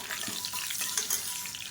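Mustard seeds, urad dal, fenugreek, dried red chillies, curry leaves and asafoetida crackle and sizzle steadily in hot oil for a sambar tempering, a dense continuous hiss with small pops, close and fairly loud, no talking.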